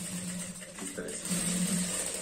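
A sewing machine stitches the waistband of a pair of trousers, its steady mechanical whir running throughout at a moderate level, with a voice speaking over it.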